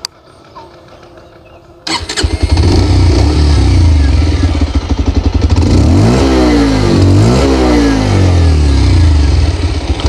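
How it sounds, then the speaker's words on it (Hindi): A 2023 Bajaj Pulsar 125 E20 fuel-injected motorcycle starts after a quiet moment, then idles loudly up close with a steady exhaust thrum before two quick revs swell and fall back to idle. "कुछ इस तरह का इसका एग्जॉस्ट नोट है"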